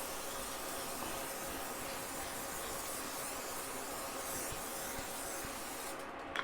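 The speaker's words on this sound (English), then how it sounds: "And so I also add some cooking spray to it." Cooking spray hisses steadily onto an indoor grill pan in one continuous, close burst lasting several seconds, ending with a short clatter.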